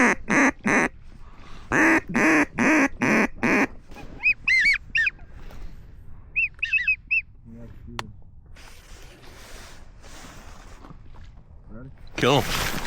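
Ducks quack in quick nasal bursts overhead above a flooded grass field during a hunt, several calls in clusters, with loud splashes and shuffling nearby and people talking at the start and end.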